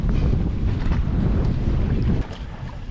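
A sailboat moves along on Buttle Lake under a steady, loud rush of wind and water against the hull, with heavy wind buffeting on the microphone that eases slightly near the end.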